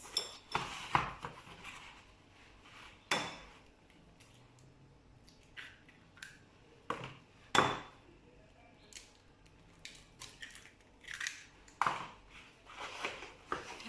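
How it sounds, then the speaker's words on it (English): Two eggs are cracked into a bowl of crepe batter, with sparse clinks, taps and light knocks of shell and utensils against the bowl amid quiet pauses. "now for my wet ingredients, I'm going to add 2 eggs"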